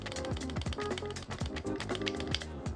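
Rapid, close clacking of keys being typed on a mechanical keyboard prototype, with dense, uneven taps filling the whole stretch and no talk over them.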